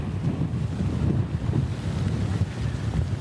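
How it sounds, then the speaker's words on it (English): Hurricane Harvey's wind roars steadily across Lavaca Bay at Port Lavaca, a loud, continuous buffeting rush that batters the microphone throughout, with no voices heard. "full brunt of Harvey, the wind coming across Lavaca Bay to my right"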